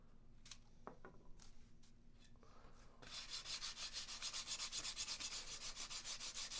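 Sandpaper rubbing on wood while building a Carl Goldberg Sukhoi SU26MX model airplane: a few light scrapes at first, then steady rhythmic back-and-forth sanding strokes, close and fairly loud.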